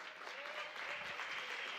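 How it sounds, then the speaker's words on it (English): An Atlanta crowd at an ELEAGUE CS:GO invitational esports match applauds steadily, a dense wash of clapping with faint voices underneath. "we've got a nice crowd here from Atlanta"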